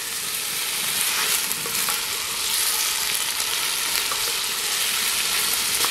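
Steady, dense sizzling and crackling as vegetables fry in a hot pot, continuous and close, with no voices.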